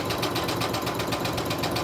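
Sewing machine stitching a lace journal cover, running fast and steady with a continuous rapid mechanical chatter, close and uninterrupted.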